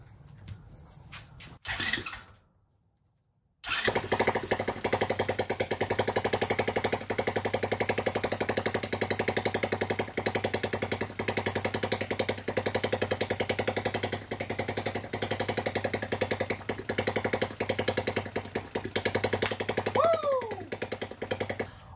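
A rebuilt TaoTao 110cc Chinese ATV engine starts after a brief pull and short pause, then runs and idles with a loud, rapid, steady close chatter, with occasional voices faintly underneath.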